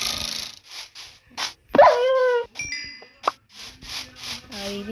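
Dog barking in the video game Minecraft, a few short yips and barks amid game sounds and chimes, with someone talking over parts of it.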